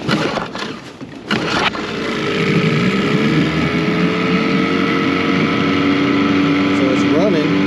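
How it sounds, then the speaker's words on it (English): An Evinrude 9.9 hp outboard boat motor with freshly replaced coils and plugs starts after a few knocks and settles into a steady, loud running drone. A voice speaks briefly over it near the end. "I wanted to make sure my motor was running after I changed out those coils."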